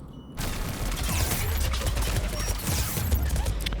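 Automated turret gunfire in the video game Mass Effect 3, a dense, continuous burst of rapid shots with heavy low-end thumps that keeps going for nearly the whole stretch after a brief quiet start.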